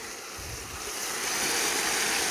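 Water rushing through a highbanker while river gravel is washed, a continuous broadband gush that swells slightly louder midway, close and steady with no talk.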